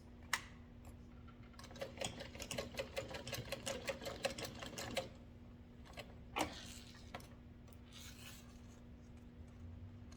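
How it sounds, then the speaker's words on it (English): A sewing machine stitches zipper tape down at a quarter-inch seam in a fast burst of rapid stitching, pauses, then gives a few short bursts, quiet and close. "we want to sew it down at 1/4 inch seam allowance"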